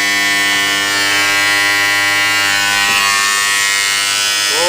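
A homemade arc welder built from a microwave oven transformer gives a loud, steady electrical buzz with strong hum overtones, unbroken and close throughout.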